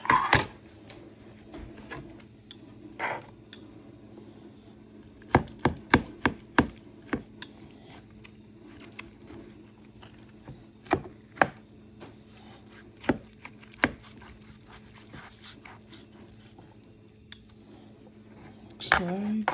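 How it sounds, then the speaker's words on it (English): Knife chopping chicken on a cutting board in a home kitchen while making pork and chicken adobo, with scattered sharp thuds in uneven clusters over quiet room tone and a faint hum. "I'm gonna start chopping it off."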